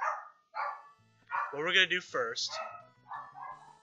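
A pet dog barks in a few short, harmonic yaps in the middle of the clip, mixed in with someone talking nearby.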